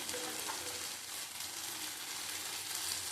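Spices with Kashmiri chili powder fry in a pan, giving a soft, even sizzle that stays faint and close throughout, without speech.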